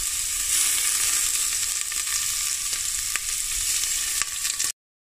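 Garlic hits a very hot pan and sizzles loudly, a steady close hiss of frying oil with a few faint clicks, lasting throughout before cutting off abruptly at the end.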